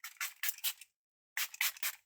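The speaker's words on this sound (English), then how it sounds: "Now I'm going to spray my face with the LA Girl Hydrating Mist." Short hissing bursts of a LA Girl Hydrating Mist spray bottle misted onto a face, two quick groups of about four sprays each separated by a brief pause, close and clear with no talking.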